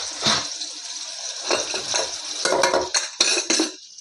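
Tomato and onion being stirred in a pot, several scraping and clinking strokes of a spoon against metal with soft wet squelches in between, close and clear.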